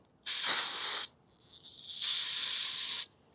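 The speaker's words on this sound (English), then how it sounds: "So I'll spray it down with the carb cleaner" Two loud hissing bursts of carburetor cleaner sprayed onto a Holley carburetor, the first about a second long, the second longer after a short softer spray, nearby.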